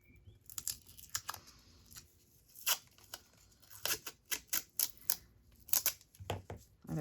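Washi tape for a paper collage is pulled off a roll and torn in a series of sharp, close ripping and crinkling bursts, irregularly spaced and fairly quiet, with no talking.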